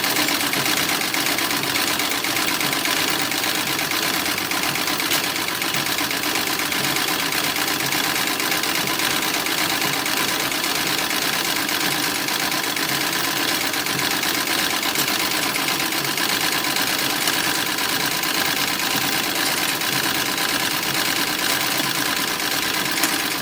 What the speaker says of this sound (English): I'm sewing the front skirt placket to the